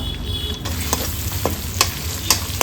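Chopped garlic, ginger, and green and red chillies fry in hot oil with a steady close sizzle, punctuated by a few sharp scrapes and clicks of a spoon stirring the pan.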